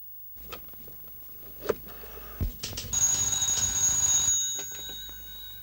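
A telephone rings in an office setting, a bright electronic trill that starts about midway through, preceded by a few scattered knocks and handling noises; the ring holds steady for a couple of seconds before fading.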